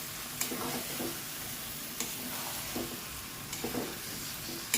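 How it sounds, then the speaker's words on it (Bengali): Chicken meat marinated in yogurt is stirred and fried with spices in a pan, a steady close sizzle running throughout with several brief scraping stirs of the spoon breaking through. "মশলার সাথে মিশিয়ে ভালো করে একটু নেড়ে চেড়ে দিতে হবে"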